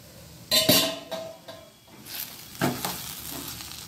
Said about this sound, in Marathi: भाजीवरचं झाकण उघडून बघूया.